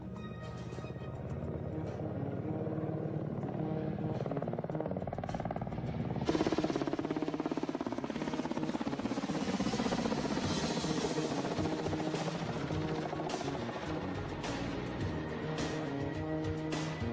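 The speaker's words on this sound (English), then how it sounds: "Today, Russia's Black Shark is one of the more impressive helicopters to watch." A Kamov Ka-50 Black Shark attack helicopter flies past with a steady loud rotor and turbine drone that swells sharply partway through and then holds, dense and continuous.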